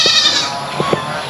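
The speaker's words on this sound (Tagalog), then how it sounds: "Ayan yung mga kambing natin dito." Goats bleat on a farm, one drawn-out call at close range followed by a few short sounds, with no one speaking.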